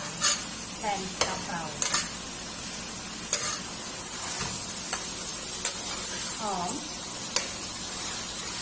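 Minced pork for kaphrao stir-fries with herb leaves in a hot pan, sizzling steadily while a spatula scrapes and clicks against the metal in sharp, irregular strokes.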